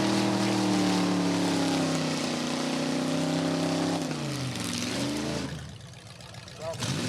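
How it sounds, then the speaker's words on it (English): Holden Monaro on fat tires driving on a track, its engine droning loudly and sweeping up and down in pitch as it passes, then fading as it moves away. "the next thing to see is Eddie's Monaro on the track"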